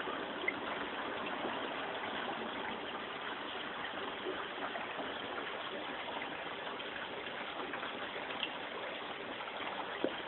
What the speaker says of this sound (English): I can adjust the water flow by adjusting this pipe up and down.